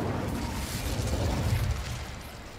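Incendio fire spell cast in Hogwarts Legacy, a broad roaring whoosh of flame with crackling bursts that builds to a peak midway, then eases off while staying fairly steady.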